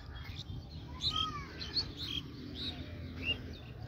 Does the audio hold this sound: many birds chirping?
yes